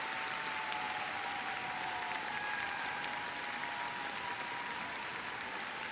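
A figure skating arena crowd at the ISU World Team Trophy in Tokyo applauds and cheers in a dense, sustained wash of clapping that holds steady throughout, with a faint whistle drifting over it.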